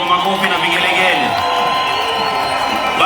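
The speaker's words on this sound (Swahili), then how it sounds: "Tafadhali tumshangilie kwa makofi na vigelegele." At a political gathering in Kenya, a crowd answers with cheering and high, trilling ululation, loud and sustained across the whole stretch with whoops mixed in, while a voice carries over the noise.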